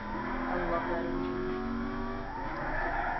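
Car engine in the Need for Speed Carbon racing game, an Aston Martin, droning steadily with a harmonic revving tone alongside tire noise, loud and continuous, with a voice talking over it.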